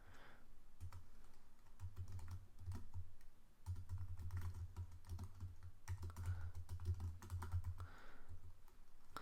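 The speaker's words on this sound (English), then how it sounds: "see if you can follow along and type what I'm typing in your playground" Rapid typing on a computer keyboard while coding in Xcode, clusters of quick key clicks in bursts with short pauses, close and fairly quiet.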